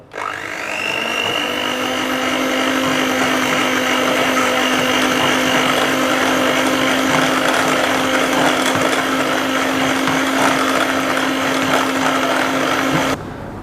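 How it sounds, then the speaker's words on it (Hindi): An electric mixer whirs up to speed and runs at a steady high-pitched drone for over ten seconds, then cuts off abruptly. "अभी इसको मैं 3-4 मिनट तक मज़ीद व्हिप करूंगा।"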